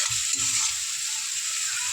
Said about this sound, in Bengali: ভালো করে কষিয়ে নেবো। 2-3 সেকেন্ডের মতো ভালো করে নিয়ে চেড়ে নেবো।